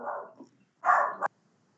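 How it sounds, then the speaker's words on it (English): A dog barks in the background, two short bursts of barking, the second louder and ending abruptly, with silence between and after. "My dog is barking in the background."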